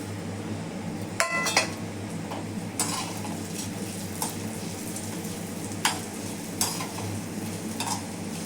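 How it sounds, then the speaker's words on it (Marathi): Grated coconut frying in a pan with cloves, black pepper and cinnamon, stirred by spoon: a steady sizzle runs throughout, broken by several sharp clinks and scrapes of the utensil against the pan, with no talking. "खोबरं तळतळत आलं की लवंग, मिरी, दालचिनी ते टाकते"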